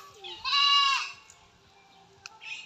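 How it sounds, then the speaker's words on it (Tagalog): A goat giving birth lets out one loud, close bleat lasting about half a second, followed by quiet farmyard background with a faint shorter call near the end. "Tapos may napansin kaming ano ni kambing dito ni Sir Caro, ayun oh."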